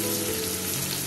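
A spoonful of ground cumin paste hitting a hot pan, sizzling steadily and loudly up close with a dense, continuous frying hiss.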